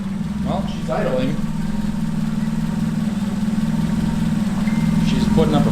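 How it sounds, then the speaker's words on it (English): A Honda Del Sol's engine idles steadily with a constant low rumble throughout, while people talk nearby over it. "Well, she's idling."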